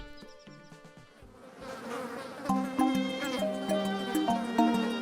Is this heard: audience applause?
no